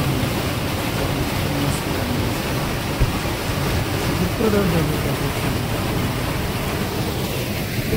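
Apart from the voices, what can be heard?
waterfall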